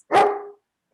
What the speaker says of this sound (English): you may hear my dog at certain points.